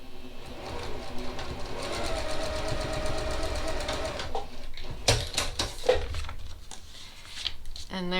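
Sewing machine stitching a paper-pieced log cabin mini quilt block, a steady fast mechanical whir with rhythmic needle clatter that runs for several seconds, then slows into a few separate clunks and stops.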